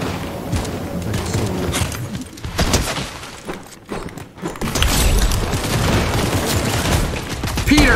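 Rapid automatic gunfire rattles through a video game firefight, loud dense bursts filling most of the stretch with a brief lull midway before the shooting resumes just as hard.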